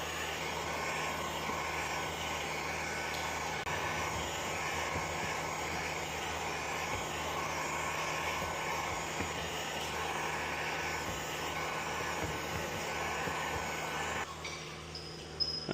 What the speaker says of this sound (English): when I use a heat gun, it kind of zigzags